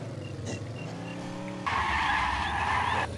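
Car engine revving and tires skidding while driving in the zombie survival game Infestation New Z, a steady engine drone giving way to a loud, sustained screech of sliding tires close up.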